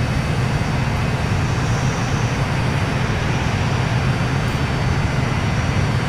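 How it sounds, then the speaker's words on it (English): Passenger jet plane taking off in Transport Fever, a steady loud engine roar with broad rushing noise that holds constant from start to finish, with no voices. "We have our first takeoff in our first passenger jet plane."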